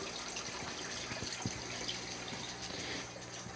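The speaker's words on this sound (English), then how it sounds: "So this last chamber here is where the one water pump is. It feeds the water around the entire cycle." Small fountain water pump circulating water through the chambers of a greenhouse aquaponic system, a steady close trickling and gushing of water that holds constant throughout with no one speaking.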